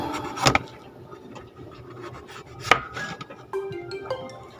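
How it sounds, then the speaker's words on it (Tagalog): A knife slicing papaya for a home-cooked dish, with a few sharp cuts against a board, one clear cut near the start and another midway, plus softer scraping and handling sounds in a quiet kitchen. "Nagayatin muna natin."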